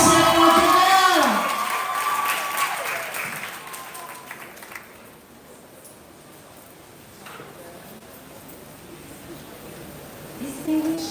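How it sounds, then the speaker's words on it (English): An audience at a Seaforth High School graduation ceremony bursts into loud applause with cheers and whoops, then the clapping gradually fades to a quiet room before a brief stir of sound returns at the end. "a round of applause for Janelle"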